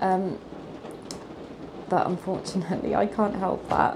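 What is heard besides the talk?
rain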